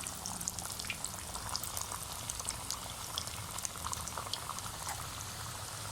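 Chicken pieces for crispy fried chicken crackle and bubble steadily in hot oil in a kadai, a soft, dense, unbroken frying hiss.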